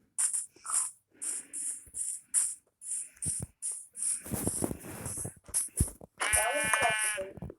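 Sheep in a video game bleating over and over in a quick irregular series of short calls, clear and close, with a louder drawn-out bleat near the end.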